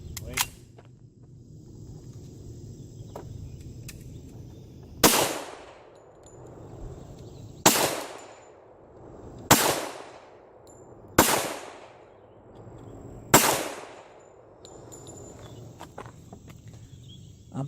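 Pistol shots fired with Alliant shotshell powder handloads, five sharp loud reports spaced about two seconds apart, each with a fast decaying ring, over faint outdoor background.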